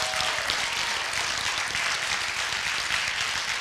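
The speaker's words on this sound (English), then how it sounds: "Let's give a hand clap for the male chorus." A church congregation applauds the male chorus with a dense, continuous wash of clapping that holds at an even loudness from start to end, with no voices over it.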